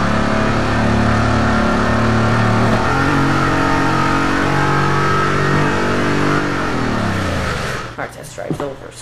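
A new car's engine revs loudly and continuously in the Test Drive Unlimited 2 racing game, the pitch climbing through gear changes before dropping off, with someone talking over it.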